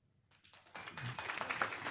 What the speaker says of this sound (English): Please, please, no clapping.